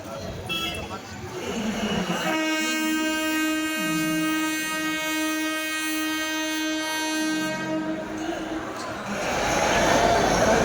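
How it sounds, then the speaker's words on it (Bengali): A local train's horn sounds at Tarakeswar station, a long steady blast of about six seconds over the bustle of a busy platform, with crowd noise and voices around it. "এখানে প্রচুর ট্রেন আপনারা পেয়ে যাবেন, যেমন হাওড়া ব্যান্ডেল লোকাল যাচ্ছে, হাওড়া বর্ধমান মেন যাচ্ছে।"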